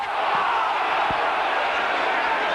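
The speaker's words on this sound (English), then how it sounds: "Whole crowd appealing for a knock-on." A rugby league crowd at a Hull versus Sheffield match appeals for a knock-on, a broad, sustained roar of many voices at a distance, steady and loud throughout.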